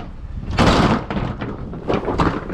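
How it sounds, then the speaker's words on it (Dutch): A door is lifted and shut, with scraping, rattling and a heavy thud, followed by further knocks and rattles of the door moving in its frame, close by. "Die moest ik vanmorgen op de zaak weer helemaal omhoog tillen, die deur."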